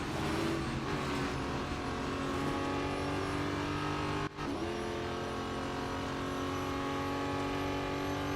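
Race car engines in the mobile racing game Real Racing 3 drone steadily and loudly through a lap, with a layered whine of harmonics and one brief dip midway.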